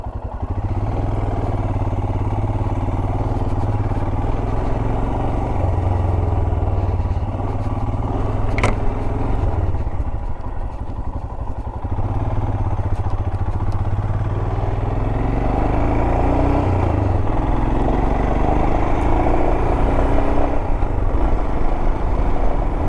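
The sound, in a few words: motorcycle riding on a trail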